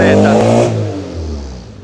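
A Fiat 147 engine revs hard through a straight-through exhaust with no muffler, a loud, close roar that eases into a lower idle-like drone, with a voice over part of it.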